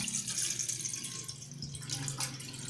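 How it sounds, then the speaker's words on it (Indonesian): Water poured into a pot while making beras kencur herbal jamu with turmeric, a steady splashing stream heard close up with no talk. "Kita masukkan air yang sudah kita siapkan itu seperlunya."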